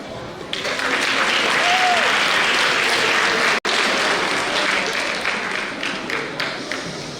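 An audience at a middle school family literacy night applauds its sixth grade poets, a dense steady wash of many hands clapping that fills the room throughout, with a momentary break near the middle before it carries on and slowly thins.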